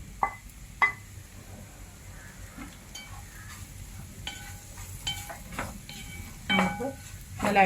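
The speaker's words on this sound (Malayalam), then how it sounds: "ഒന്ന് ലൈറ്റായിട്ടൊന്ന് ഇളക്കി കൊടുക്കാം." Mushroom pieces are stirred in a pan with light scraping and clinks at a gentle pace, over a faint sizzle, with a louder scrape near the end.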